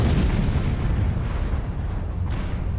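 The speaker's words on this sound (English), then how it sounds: "The vapor cloud likely found an energized welding machine roughly 70 feet away from the initial release and ignited." An isobutane vapor cloud at a Baton Rouge refinery ignites, set off by a welding machine about 70 feet away. It makes a loud, sustained, rumbling explosion roar that fades slightly over a few seconds.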